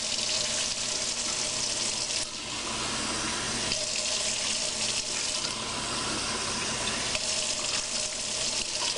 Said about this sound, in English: so we're going to put more water in